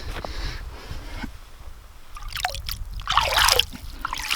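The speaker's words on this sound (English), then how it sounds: "If you walk over here to our creek, we always make sure the ice is broke out of it." Creek water trickling on an off-grid homestead in winter, where ice has been broken out of the stream: soft, faint gurgling and dribbling close by, uneven and rising near the end, with no talk.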